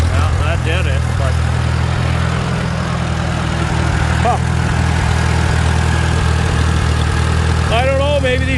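Small engine fitted with a Chinese carburetor running steadily at speed, a loud, close, continuous drone that holds without pause, with a voice speaking briefly near the end.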